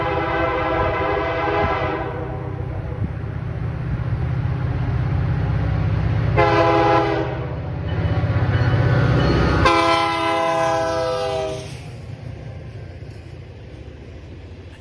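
An EMD GP39 diesel locomotive, BNSF 2648, leads a freight train past with a deep, loud engine rumble throughout and several long harmonic horn blasts sounding close by, the engine noise easing toward the end.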